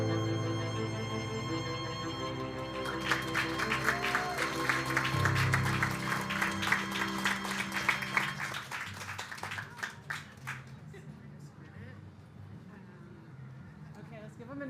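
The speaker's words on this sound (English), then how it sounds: "let's give them another round of applause for these beautiful films" Audience applause following documentary film screenings at a seaweed festival panel, a dense wash of clapping that builds over several seconds and then thins out, heard at a moderate distance with some voices mixed in.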